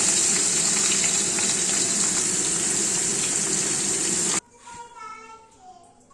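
Boal fish rubbed with salt and turmeric hits hot oil in a kadai, throwing up a loud, steady sizzle that runs about four seconds and then cuts off abruptly, leaving faint quieter sounds.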